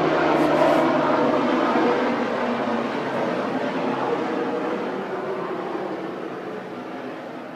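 Helicopter passing overhead above a residential neighbourhood in South Central, a loud broadband rotor and engine rumble that is strongest at first and slowly fades as it moves away, with no talking.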